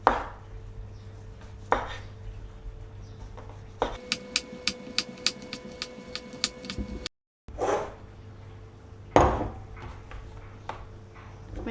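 Zucchini sliced with a knife on a board, a run of crisp evenly spaced chops in quick rhythm between a few louder handling thumps and knocks, fairly close with no talk.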